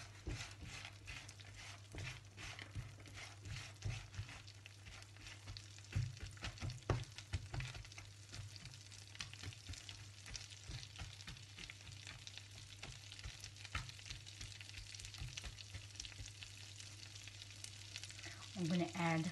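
Pecans frying in a pan over medium heat, a soft steady sizzle with occasional stirring scrapes and a low hum beneath, fairly quiet and close.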